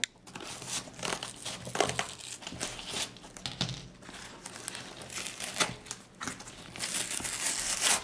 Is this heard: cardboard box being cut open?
yes